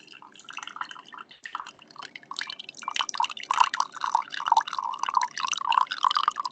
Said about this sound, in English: Maybe you can kind of get the sound of me pouring this into this mug.